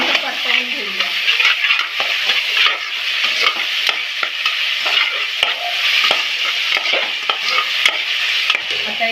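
Ginger-garlic paste sautéing in hot oil in a pan while clams biryani is being cooked, a steady close sizzle broken by repeated scraping stirs of the spoon, no talking.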